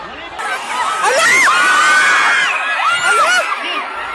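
Students scream and shout in fear during a magnitude 7.8 earthquake at a high school flag raising ceremony in Davao del Sur, a loud sustained crowd with shrill rising and falling cries.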